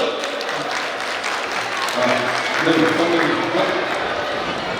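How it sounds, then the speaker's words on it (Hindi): A crowd applauds loudly at a grand felicitation ceremony for Delhi's Chief Minister, ministers and government legislators. The clapping is a steady, dense wash that swells slightly toward the middle, with voices mixed in. "एक बार जोरदार ताली बजा दो"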